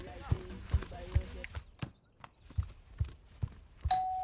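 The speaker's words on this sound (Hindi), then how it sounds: "डोरबेल की आवाज से बेखबर थी" A doorbell chimes once near the end, a clear bright ding following a series of soft rhythmic thumps like footsteps or dance steps at a flat.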